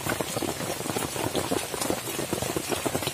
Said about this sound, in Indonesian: Hujan lagi, berguntur lagi.